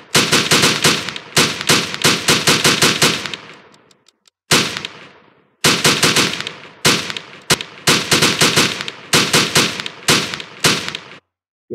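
Game gunfire from an Unreal Engine weapon system: loud, rapid automatic bursts fired in several strings with brief pauses and short tails between, close and alone.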